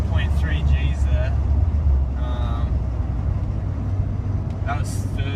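A car pulls hard in third gear on a highway, climbing from about 60 to 110 km/h, with a steady low engine drone and road roar throughout while someone talks over it.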